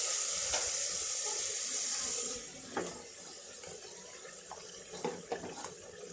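Water splashes from a tap into a pan of chicken korma spices, loud and steady at first, then easing into quieter trickles and a few sharp clinks near the end.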